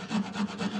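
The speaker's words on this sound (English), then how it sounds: "make the cuts across like this" Hand saw cutting across wooden trophy letters held in a vise, a steady close rasping stroke repeated about four times in under a second.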